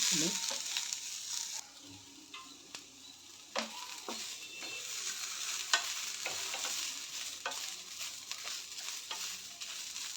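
Flat beans (jawali kai) stir-fried in a pan for palya, with steady close sizzling broken by scrapes and clacks of a spatula stirring the pieces, no talking.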